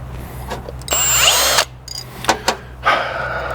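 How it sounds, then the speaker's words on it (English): Cylinder hone spun by an electric drill inside the valve guides of a 7.3 IDI diesel cylinder head, giving a loud whining grind in a burst of about a second, then short bursts and a steadier stretch of rotary whir. "you want to make sure the hone is moving before you put it inside the valve guide"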